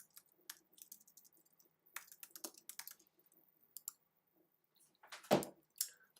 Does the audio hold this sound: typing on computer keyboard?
yes